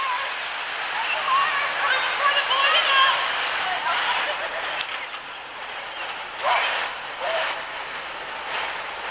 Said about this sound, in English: Just wanted to show you the creek.